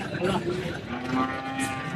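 A Malvi bull at the Varkhedi bull market gives one long, deep moo, loud and close, holding steady for about two seconds.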